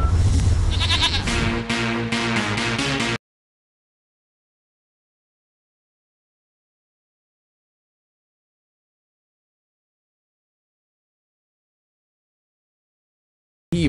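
Goats bleating at a busy livestock market where animals are bought, a dense burst of loud, close bleats for about three seconds, followed by long silence and a brief return at the very end.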